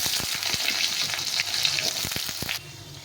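Potatoes frying in a pan over tempered spices, a dense sizzle broken by repeated scraping and tapping of a spatula, then the sizzle drops sharply near the end.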